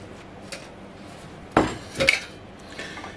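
A utensil stirs grated zucchini and salt in a bowl, with a few close, sharp clinks and scrapes against the dish between quiet pauses.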